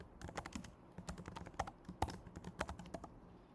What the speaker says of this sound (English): if you want to delete the entire dictionary, we just type del and then our dictionary del.